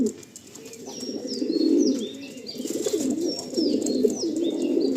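Pigeons cooing in a loft, overlapping low throaty coos repeating steadily and close by, with faint higher chirps above them and no talk.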